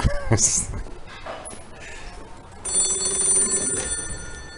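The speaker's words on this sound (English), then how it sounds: "When you walk in here, these phones start ringing." Old telephones ring in an antique shop on Taipei's oldest street, a bright electronic bell trilling steadily in the latter half amid shop bustle, with people talking nearby.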